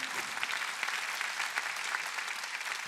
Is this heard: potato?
no